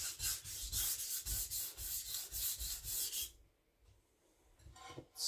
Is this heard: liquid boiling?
no